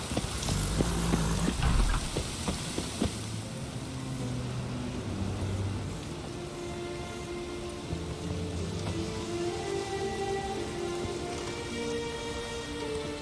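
Steady rain falls in The Witcher 3, a dense hiss of drops on surfaces. A few louder knocks and low rumbles sit in the opening seconds before it settles into an even patter.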